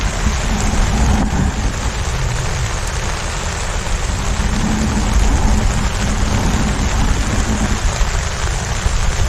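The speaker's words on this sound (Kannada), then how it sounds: "ಫುಲ್ ಮಳೆ." Heavy rain pours steadily at an outdoor fishing spot used for carp and tilapia fishing, a dense, loud, continuous hiss of drops hitting water and surfaces, with no voices.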